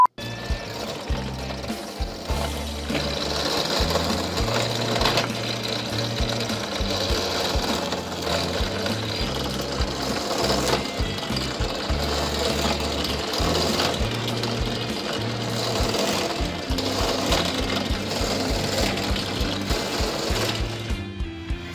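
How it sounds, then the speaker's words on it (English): Electric drill boring holes in parts for a full-auto magazine-fed Glock 18 style rubberband gun, a steady loud whirring motor that runs continuously with small pulses as each hole is drilled. "You guessed it, drill all the holes."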